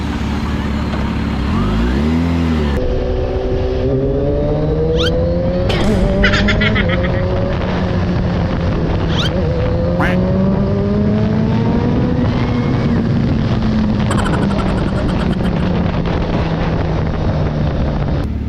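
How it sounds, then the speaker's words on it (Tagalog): Kawasaki H2SX big bike with manual gearbox, its engine revving and jerking through gear changes with rising and falling pitch, heavy wind rush over the microphone, and a passenger's voice speaking over the ride. "ba't parang kumakajut-kajut yung motor natin?"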